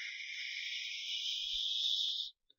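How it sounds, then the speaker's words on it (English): Uplifter white noise rise effect made in FL Studio for uplifting trance, a band of filtered noise sweeping slowly upward over about two seconds, then cutting off abruptly. "An uplifter is just a rise of white air"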